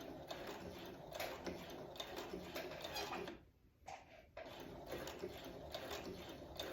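A Brother CS7000x sewing machine stitching the front facing of a dress, a continuous close mechanical whirring that stops briefly midway and then resumes, with no talking.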